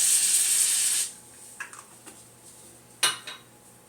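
A hairspray can hisses steadily for about a second over a freshly placed hair track during a weave install, then stops, followed by a few soft clicks and one sharper tap of the can being handled.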